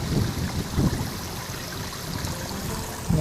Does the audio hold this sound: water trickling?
yes